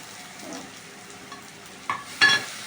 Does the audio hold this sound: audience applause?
no